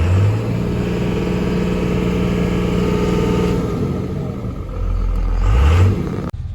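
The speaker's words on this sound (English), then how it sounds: "I'll give her some gas and see what happens." A diesel vehicle engine revving up and back down, a loud, close, steady mechanical drone with a couple of rising throttle blips near the end before cutting off.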